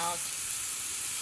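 A New York strip steak, marinated in Haitian epis, sears in a hot pan with a steady, close, bright sizzle and hiss that holds even throughout, with no talking.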